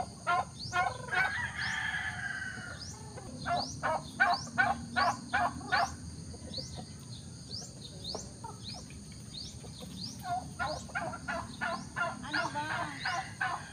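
Chickens and other fowl clucking and gobbling at an army campsite, in rapid bursts of repeated calls close by, with brief pauses between runs and a constant high insect-like whine behind; someone speaks briefly.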